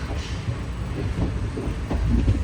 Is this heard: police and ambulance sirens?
no